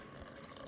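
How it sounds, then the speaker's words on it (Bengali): A small splash of water pours into cake batter in a bowl, a brief soft trickle heard alone and fairly quietly. "একদম সামান্য একটু জল দিয়ে দেব"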